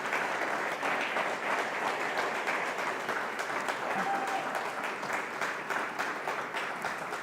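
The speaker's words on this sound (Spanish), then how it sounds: "Denle un aplauso a Él." A church congregation applauds steadily, dense even clapping at moderate level lasting the whole stretch, with faint voices mixed in underneath.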